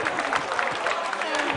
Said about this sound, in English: the clapping is not stopping